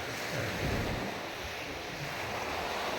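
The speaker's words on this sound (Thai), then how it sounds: "ที่เดิน เลาะชายทะเลมา ตอนนี้ก็เดินบนชายหาดบ้าง" Ocean surf breaks steadily on a sandy beach while wind buffets the microphone, a continuous broadband wash with no voices.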